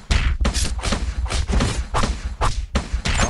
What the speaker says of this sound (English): Here, have some cannon.